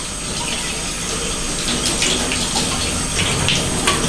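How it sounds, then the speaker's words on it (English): A kitchen sink tap runs steadily while recyclable items are rinsed under it, with a close, continuous gush of water and faint clinks and splashes and no speech. "Sometimes washing an item in the sink is really easy, it just requires a simple rinse."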